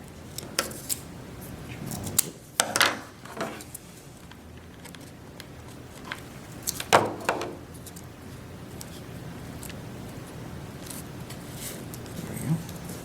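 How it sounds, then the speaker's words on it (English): Scissors cut edging material for a multi-level Dungeons & Dragons craft tile, giving a few sharp snips and crisp rustles spread across a mostly quiet stretch. "And I will cut my edging."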